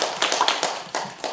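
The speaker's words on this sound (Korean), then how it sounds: "큰 박수 부탁드립니다." A small audience at a Buddhist monastic education seminar claps in a short burst of uneven, close hand claps that fade after just over a second.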